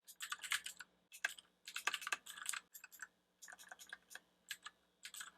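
Rapid bursts of typing on an hwings wired/wireless mechanical RGB gaming keyboard, with crisp close key clicks in irregular runs and brief pauses between words.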